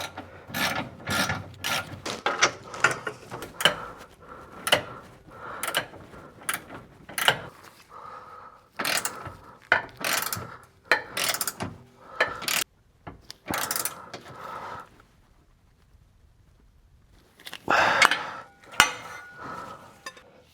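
Quick bursts of ratchet clicks from a wrench tightening a nut on a 2015–2021 Subaru WRX STI CUSCO rear differential carrier, close and crisp, in repeated short strokes, with a pause near the end before a final flurry.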